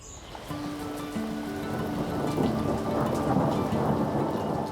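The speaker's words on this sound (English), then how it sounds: "it only takes a rumble of thunder and a summer rain shower" A summer rain shower hisses steadily while low thunder rumbles and swells, growing louder over several seconds, with faint background tones and no speech.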